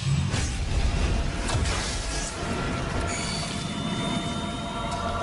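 A train rolls along the rails in an animated cartoon scene, a steady rumbling clatter with a thin metallic squeal drawn out above it, moderately loud and without speech.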